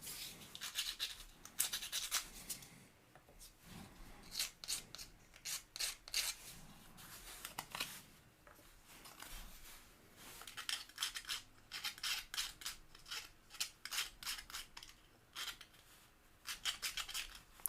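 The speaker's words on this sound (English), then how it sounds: "We basically need to sand those off." Tabs being sanded off wooden model kit pieces by hand, heard as rapid rhythmic rasping strokes in repeated bursts with short pauses, close and fairly quiet.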